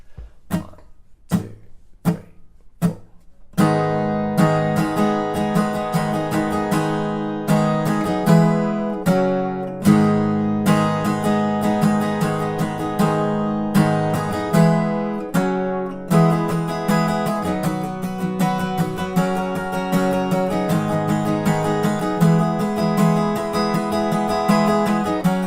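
An acoustic-style guitar plays a song's chorus, opening with four sharp count-in taps, then steady strummed chords for over twenty seconds, close and solo.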